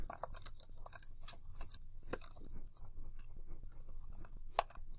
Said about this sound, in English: typing something pretty nonsensical